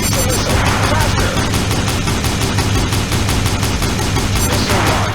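Video game combat with a missile launch amid gunfire: dense, loud, continuous rapid bursts of shots and blasts filling the whole stretch, no pauses.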